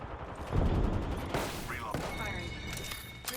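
Bursts of rapid gunfire from the video game Apex Legends ring out amid other in-game weapon noise, with a player talking over the shooting.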